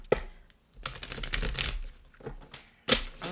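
Oracle cards drawn and shuffled from a deck, giving close, dry papery flicks and slaps in several short bursts with brief pauses between, no talking.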